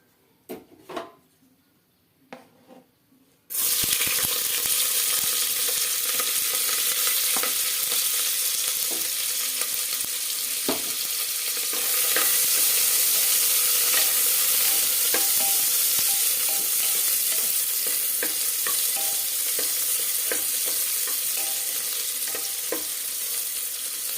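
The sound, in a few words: chopped onions frying in hot oil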